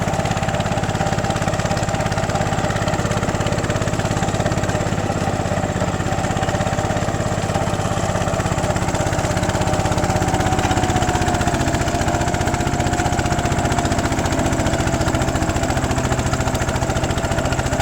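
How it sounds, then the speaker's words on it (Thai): A modified tractor pulling a disc plough through furrows, its engine droning in a steady, rough, close rumble with a constant mechanical hum and no talk over it. "ตอนนี้รถไถคว่ำร่องอยู่นะครับก็คือไถร่องทิ้งไปก่อน"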